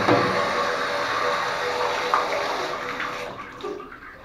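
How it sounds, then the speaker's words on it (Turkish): Water running through a Hyundai Accent Era car radiator during flushing, a steady broadband rush that stays fairly even, then eases and thins out toward the end. "Suyu açtıktan sonra peteğimize vura vura içindeki pislikleri daha iyi çıkmasını sağlayabiliriz arkadaşlar"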